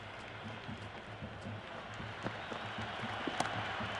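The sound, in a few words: cricket crowd cheering in the video game Cricket 26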